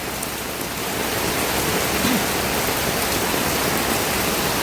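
Steady evening rain, a dense, even hiss of falling drops that holds without pause, close and fairly loud, with no voices.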